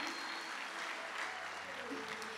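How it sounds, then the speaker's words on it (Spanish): Applause for owners David and Felipe Novoa at a Teoma 2019 company presentation, a steady wash of clapping from an audience filling the whole stretch at moderate level. "hay que darle fuertes aplausos a los dueños David y Felipe Novoa"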